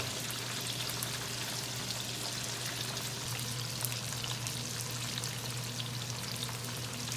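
Flamin' Hot Cheetos-coated chicken frying in hot oil, a steady dense crackling sizzle that holds at an even, close level throughout with no voices.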